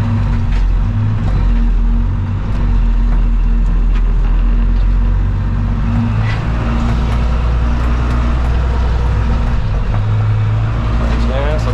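A John Deere combine harvester driving through a field during the grain harvest, a loud, steady low engine drone with mechanical rattling throughout, close up, while a person talks over it.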